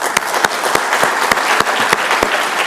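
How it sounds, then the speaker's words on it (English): Audience applause at a panel discussion on transport and logistics, sustained clapping from a crowd with a few sharp, close claps standing out at a steady rhythm over the softer wash. "if we can give another round of applause to Engineer Suleiman"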